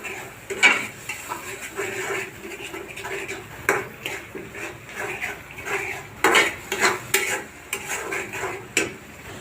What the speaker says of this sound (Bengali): মশলাটা ভালো করে কষাইতে হবে